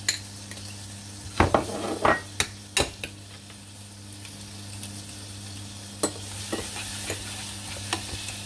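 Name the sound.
stirring garlic cream into butter in a pan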